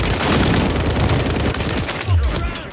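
Rapid bursts of gunfire in Call of Duty Warzone crackle loudly and almost continuously, with a heavy boom near the end, and voices talk over the shooting.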